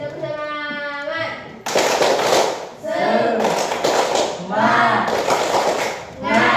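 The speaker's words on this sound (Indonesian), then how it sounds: "Tepuk semangat." A class of children doing the rhythmic Indonesian 'tepuk semangat' spirit clap, with bursts of clapping and chanted voices in patterned rhythm.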